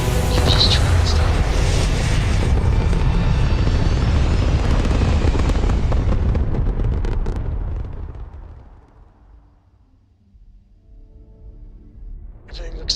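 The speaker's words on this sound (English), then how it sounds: "Prepare for liftoff." A spaceship lifting off in Starfield, a loud rumbling roar with crackling thrust that swells for several seconds and then fades away into a faint low hum, with no talking over it.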